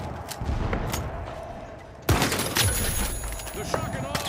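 Shotgun blasts and rattling bursts of gunfire in a video game firefight, a louder close burst partway through followed by continued shots and clatter, with people talking over it.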